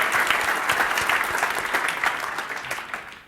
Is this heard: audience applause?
yes